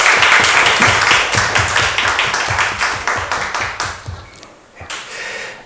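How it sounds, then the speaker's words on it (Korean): A church congregation claps in encouragement, a steady burst of many hands applauding together that gradually thins and fades toward the end, with a brief swell at the close. "우리 격려의 박수 한번 주시겠습니다"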